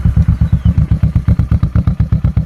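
A modified Kawasaki Vulcan 650 S motorcycle engine idles close by with a loud, steady, lumpy chug, each pulse thumping evenly, with no voices.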